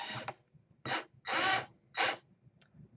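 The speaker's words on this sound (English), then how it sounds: "turn on the drill" A power drill runs in short bursts while twisting the wire trunk of a model tree, four or five whirring spurts separated by brief pauses, close and moderately loud.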